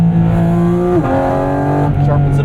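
A 2023 Porsche 718 Cayman GT4 RS in PDK Sport mode roars loud and close, its engine note climbing steadily, then dropping sharply at a quick gear change before pulling hard again.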